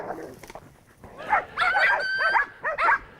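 A hunting dog working a downed animal while hunting in Argentina, giving excited yips, whines and short barks at close range in quick uneven bursts.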